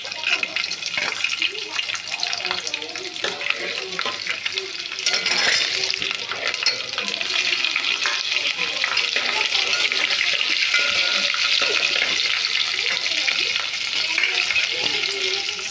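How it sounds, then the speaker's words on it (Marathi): Mustard seeds, cumin, curry leaves, garlic and green chili crackling and sizzling in hot oil in a kadhai, loud and continuous with stirring clatter, growing busier partway through. "तर आपण तेल घेतलेलं आहे, त्यात आपण थोडीशी मोहरी घालूया आणि थोडंसं जिरे, कढीपत्ता, लसूण आणि मिरची घेतलेली आहे।"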